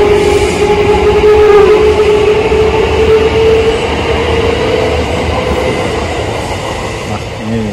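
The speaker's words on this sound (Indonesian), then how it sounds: "aku nungguin kereta api ya di sini" A train in Japan rumbles past close by on a bridge over a river, loud and steady, with wheels clattering and a high squeal along the rails.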